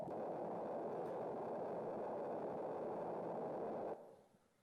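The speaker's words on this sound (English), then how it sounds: "This is the sound that old computers in like sci-fi movies are supposed to make when they're thinking really hard" A sustained synthesized sine-wave tone, the bleepy sci-fi computer 'thinking' sound, runs steadily and loud for about four seconds, then cuts off abruptly into a faint trailing fade.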